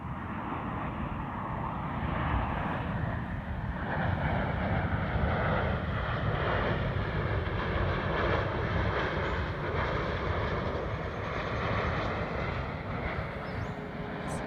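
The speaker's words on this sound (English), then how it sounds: "Here comes that same plane." An airplane with its landing gear down passes overhead, a steady broad engine roar that holds loud and even for about fourteen seconds with some wind rumble.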